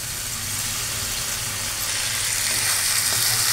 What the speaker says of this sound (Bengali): এবার এটাকে একটুখানি সিমে রেখে নাড়াচাড়া করব।